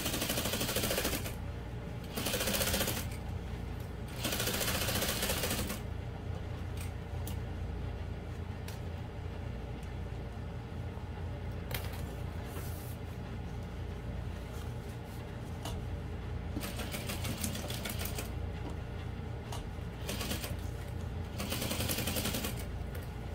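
Sewing machine stitching the gusset of an all-vinyl bowler bag, several bursts of rapid mechanical chatter separated by short pauses, close and fairly loud.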